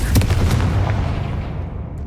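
A Confringo fire spell blasts spider egg sacs in a video game, a loud rumbling explosion with a heavy low boom that rolls on and slowly fades.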